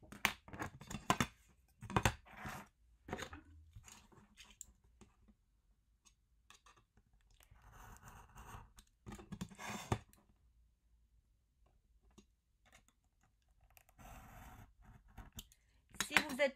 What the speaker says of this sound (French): Et vous allez venir couper cette partie.